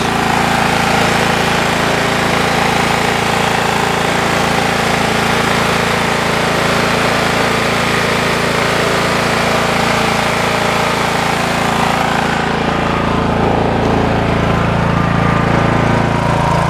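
A 1998 Murray lawn tractor engine running steadily at idle, a loud continuous mechanical drone close by with no pauses for the whole stretch.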